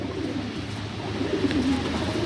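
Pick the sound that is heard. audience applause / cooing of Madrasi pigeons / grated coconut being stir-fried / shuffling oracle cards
cooing of Madrasi pigeons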